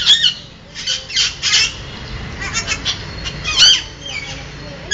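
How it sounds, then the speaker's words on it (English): Blue-naped parrots, a rare Philippine species, squawking inside a box: repeated harsh, raspy calls in irregular bursts, loud and close over a low background rumble. "These birds squawk in the box."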